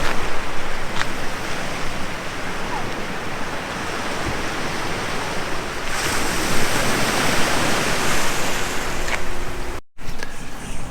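Surf washing onto a beach in the small town of Hana on Maui, a steady broadband wash of waves with wind, continuous and moderately loud, with no voices.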